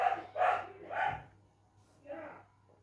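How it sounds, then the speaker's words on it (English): A dog barks three times in quick succession, then once more after a pause, faint and somewhat distant, over a low hum. "I bloody hate that dog. Always barking."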